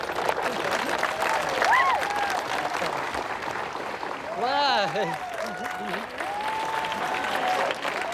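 Applause from a crowd gathered outside on steps in sunny Auckland, steady and close, with someone talking over the clapping.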